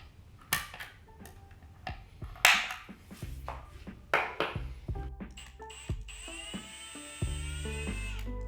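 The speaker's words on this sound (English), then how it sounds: "using a center punch before drilling to ensure a clean drill as always." Several short bursts of a small power drill whirring on and off as it drills screw holes in a speaker kit, with clicks and metallic pings between them, close by and alone without talk.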